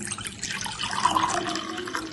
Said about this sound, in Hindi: आपने इस तरह एक कप लेना है और उसमें पानी डाल दें